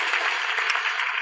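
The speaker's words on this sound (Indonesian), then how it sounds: "Tepuk tangan buat Tuhan." Brief burst of audience applause at a church talk-show conference, steady dense clapping from a crowd.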